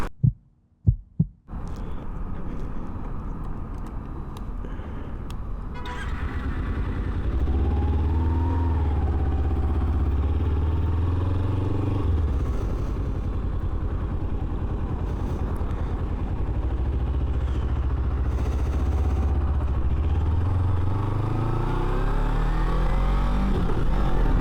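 A Kawasaki Ninja sport motorcycle rides along Angeles Crest Highway, its engine droning low and steady under heavy wind rush for most of the stretch, pitch rising and falling as it revs, after a few sharp knocks at the start.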